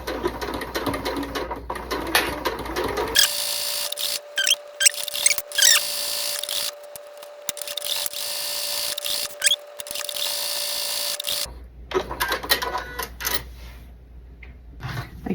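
A sewing machine chain stitching quilt block pieces for a Rising Sun block runs in one steady, close mechanical whir with a constant motor hum for several seconds, framed by quieter handling noise.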